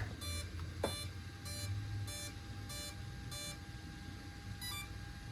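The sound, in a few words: electronic speed controller beeps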